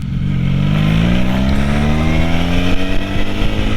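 A Honda Magna motorcycle engine revs up close and loud, its pitch climbing steadily in one sustained pull with no talking.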